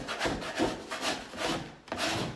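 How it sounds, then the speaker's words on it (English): A plastic wallpaper smoother peels wallpaper backing off a wall, making a few close, rough tearing and rubbing strokes in quick bursts with brief pauses between them, and no talking. "Just take a look at the ease with which this backing comes off."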